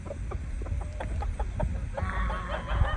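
Several chickens cluck softly and irregularly close by, with short murmuring calls overlapping against a low outdoor background.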